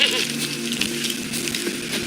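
Goat bleating in the video game The Witcher 3, a steady nasal bleat over game ambience running through the two seconds, fairly loud and close.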